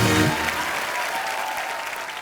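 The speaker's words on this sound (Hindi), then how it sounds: "जोरदार तालियां नेहा के लिए।" A studio audience on a TV comedy show bursts into dense, sustained applause for a guest, loud and continuous with no talking over it.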